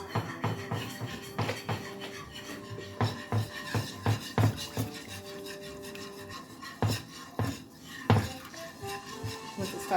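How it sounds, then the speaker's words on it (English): A whisk stirs a nacho sauce mixture in a pot, giving rhythmic scraping and rubbing strokes with metallic clinks against the pan, close and steady without talk. "Grab a whisk and just start stirring this."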